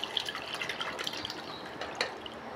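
Pig blood poured into a dinuguan stew pot, a soft steady liquid trickle and splash with small drips, close and fairly quiet throughout.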